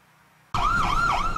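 After a quiet moment, a loud emergency siren suddenly blares, its pitch swooping up and down in a repeating wail, in Spencer, Massachusetts, during Tropical Storm Isaias.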